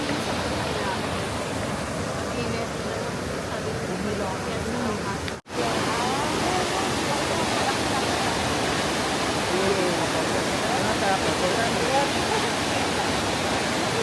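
Aw Asen Falls, a waterfall, roars as a steady, loud broadband rush of falling water close by, continuous throughout with only a brief dropout midway.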